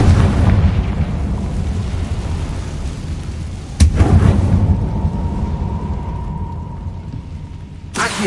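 A Confringo blasting spell detonating in the Hogwarts Legacy video game, a deep booming explosion with a rolling rumble, followed by a second sharp burst near the end.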